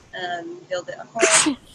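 A single sneeze bursts out in the middle of a live therapy session, loud and close, falling between stretches of calm speech from a nearby voice.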